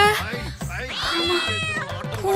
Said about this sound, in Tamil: பூனை பூனை கத்துனதுதான் எனக்கு குழந்தை கத்துன மாதிரி கேட்டுச்சோ?